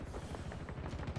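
A burst of rapid gunfire crackles faintly in a Halo-style video game, several quick shots in a short volley with no talk over it.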